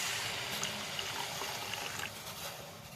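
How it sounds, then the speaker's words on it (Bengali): Water is poured into a pot to make tea, a soft steady trickle with small splashes. It is quiet and close, with no talk. "এখন আমি পানি দিয়ে দেবো"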